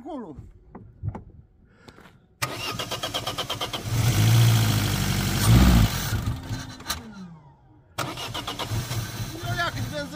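A car engine cranks and catches after a stretch of speech, then runs loudly and revs before cutting off and restarting; voices are heard at the start and under the engine noise.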